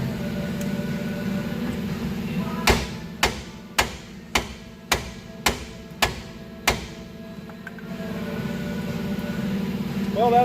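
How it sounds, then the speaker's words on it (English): A stuck bolt on a Subaru Impreza GC's suspension is struck during a Koni suspension install. Eight sharp, loud metallic blows land close by at an even, steady pace against a low background hum. "I'm gonna hit it a little bit more with 2 hands"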